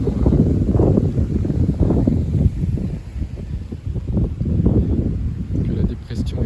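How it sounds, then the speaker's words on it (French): Strong southwest wind from a gale on the margin of storm Eowyn buffets an outdoor microphone in a continuous rumbling roar with surging gusts, a voice talking over it. "là on a le vent de sud-ouest qui remonte. Que là ça souffle plus que tout à l'heure"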